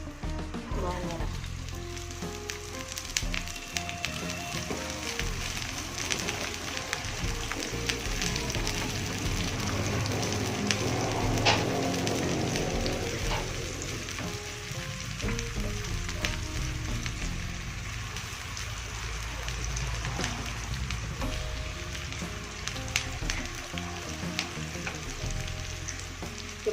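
Garlic and shallots sizzle steadily in a small amount of hot oil in a pan, a constant close frying hiss with light stirring, while someone talks over it.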